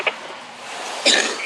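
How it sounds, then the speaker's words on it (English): Two short, harsh coughs, one faint at the start and a stronger one about a second later, against a quiet background. "you must smoke with a cough like that"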